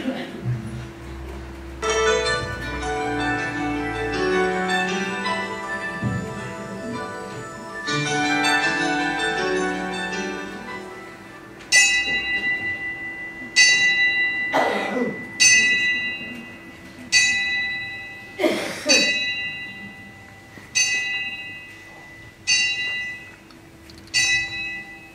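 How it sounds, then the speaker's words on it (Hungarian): Bell in a staged musical play of A Christmas Carol strikes repeatedly, about eight clear, ringing strokes spaced roughly a second apart, loud and resonant, following a stretch of sustained music. "amikor a harang 12-t üt"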